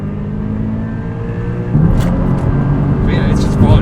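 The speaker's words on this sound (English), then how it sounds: "I can still put the foot down, listen to the engine" A Lexus hybrid car accelerating as it merges onto a motorway, its engine note swelling and growing louder partway through, heard close from inside the cabin with a voice talking over it.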